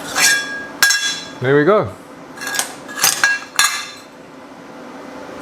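A metal clamp being taken out and handled in a workshop during fabrication on a 1939 Hudson rat truck, sharp metallic clanks and clinks in several separate hits, with a short spoken remark in between.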